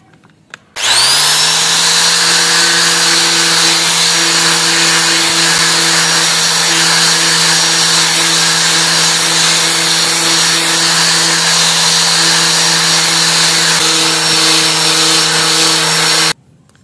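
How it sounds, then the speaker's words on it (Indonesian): Conical grinder smoothing carved scrap wood, a loud steady whine holding one pitch from start to finish with a constant motor hum underneath, cutting off abruptly at the end. "kita rapikan lagi memakai gerinda ini, gerinda kerucut"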